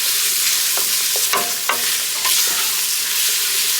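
Celery and other Cajun trinity vegetables sauté in a hot pan with a constant close sizzle, while a spoon scrapes and stirs through them in a few distinct clacks and scuffs.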